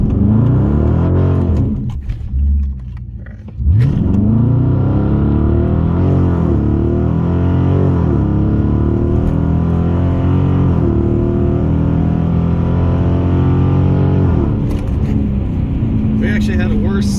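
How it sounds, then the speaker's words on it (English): A 2017 Dodge Challenger with a Jay Greene tune does a brief burnout, then launches into a hard acceleration pull. The engine roars loud and close, climbing steadily through the gears with a short dip around a shift. "we're going to do like 3-second burnout before it, and then we're going to hit it."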